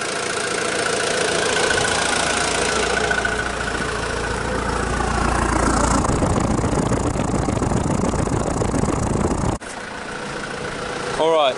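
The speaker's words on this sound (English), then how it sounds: "I just got the missus to give it a little rev under the bonnet whilst I sat next to the exhaust" A Mazda WLT diesel engine in a Ranger, Courier or B2500 idles roughly, then revs up and settles, heard loud and close from beside the exhaust.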